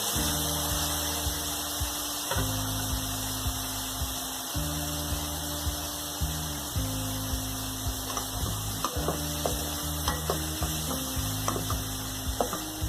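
Ginger garlic powder, red chili, black pepper and salt sautéing in oil for spicy macaroni, a steady close sizzle with occasional stirring clicks under a low background hum, no talking.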